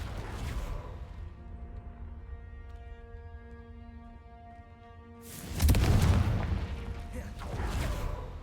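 The Confringo explosive spell is cast in the video game Hogwarts Legacy. A humming tonal build-up gives way to a heavy, booming blast, followed by a rumbling tail and a second, smaller burst.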